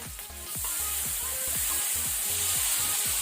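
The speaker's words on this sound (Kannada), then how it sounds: "ಜಿಂಜರ್ ಗಾರ್ಲಿಕ್ ಪೇಸ್ಟ್ ಅದು ಹಸಿ ವಾಸನೆ ಹೋಗೋ ತನಕ ಸ್ವಲ್ಪ ಫ್ರೈ ಮಾಡಿಕೊಳ್ಳುವ." Ginger garlic paste fries in a pan with a loud, dense hiss, while repeated low thumps of stirring beat in a quick, regular rhythm underneath.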